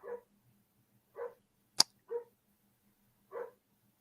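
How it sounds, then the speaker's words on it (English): Small dog or puppy giving four short, sharp barks spaced irregularly over a few seconds, fairly distant indoors, with a low steady hum and one sharp click between them. "I hear my dog barking for some crazy reason."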